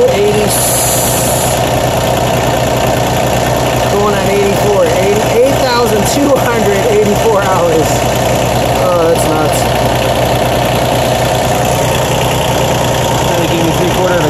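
A 1993 Toro Groundsmaster 325D mower with a Mitsubishi K3D diesel engine runs at a steady idle, a loud, constant mechanical drone with clattering, and someone talks over it.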